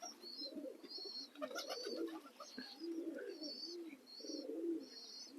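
Sialkoti pigeons coo in soft, repeated low throaty phrases close by, with faint higher chirps from other birds woven between the calls.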